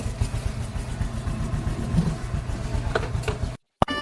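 A Honda RS125 Fi motorcycle engine runs close by with a steady, pulsing idle, then cuts out briefly near the end before a short burst of sound returns.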